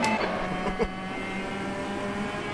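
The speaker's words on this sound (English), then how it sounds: "Oh, I can't wait to never hear this engine again." A steady race car engine drones throughout in a Copa Petrobras de Marcas racing game at Circuit Thermalito, running low on fuel in hot conditions; a constant harmonic whine holds near and loud, with a brief thump under it.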